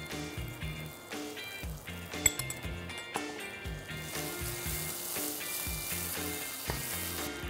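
Ginger garlic paste hits hot oil with whole garam masala in a pan, sizzling and frying steadily throughout, with a few metallic clinks from a utensil stirring near the mic.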